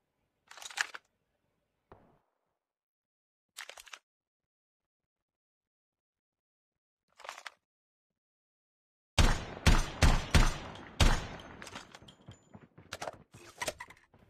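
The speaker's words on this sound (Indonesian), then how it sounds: "Oh, ada bunyi tembakan di bawah tuh." A few isolated sharp shots ring out in Call of Duty: Mobile, separated by silence, then a rapid burst of loud gunfire crackles in quick succession.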